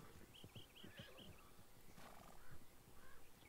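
A horse whinnies in Red Dead Redemption 2 in a rising, wavering call, followed by snorts and hoof-like thumps over a dense, noisy background.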